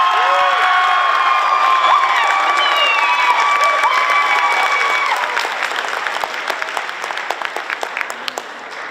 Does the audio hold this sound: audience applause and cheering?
yes